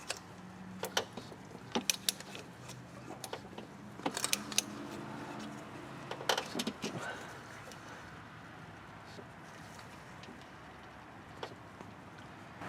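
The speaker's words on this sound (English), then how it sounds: "So using that, I was able to rotate the crank around so I can get all the torque converter bolts out." A socket wrench turns the crankshaft of a Saturn L300 V6 engine, producing intermittent close metallic clinks and ratcheting clatter in bursts, then a quieter stretch of low workshop rumble.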